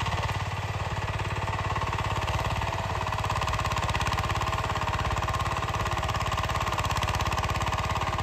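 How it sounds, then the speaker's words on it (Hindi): A small hand-operated walk-behind tractor engine running in the Himalayan hills of Uttarakhand, a loud, close, steady rapid chugging thrum that holds an even pace throughout with no talk over it. "ये वाला ट्रैक्टर है छोटा सा, देखो हाथ से चलता है ये।"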